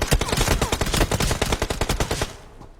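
Rapid automatic gunfire in a shooting video game, a fast, loud burst of closely spaced shots that holds steady, then tapers off near the end, with no talking over it.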